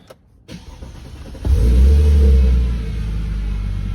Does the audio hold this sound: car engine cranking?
yes